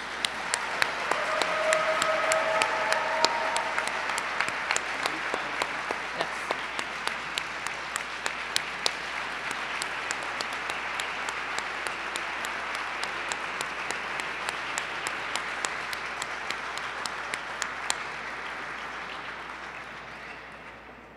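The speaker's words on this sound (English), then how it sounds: "Let's have a round of applause for America's newest citizens." A naturalization ceremony audience applauds America's newest citizens, a sustained wash of steady clapping from a large crowd lasting about twenty seconds before slowly tapering off.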